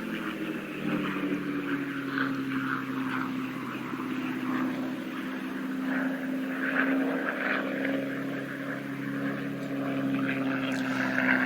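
A North American P-51D Mustang propeller fighter flies at an airshow, giving a steady droning engine and propeller hum heard at some distance, holding fairly even throughout.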